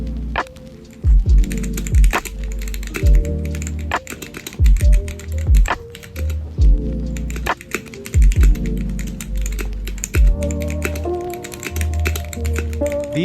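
Typing on a GamaKay K87 mechanical keyboard fitted with stock Gateron Black switches: loud, close, clacky keystrokes in uneven bursts with short pauses, each press giving a sharp thock.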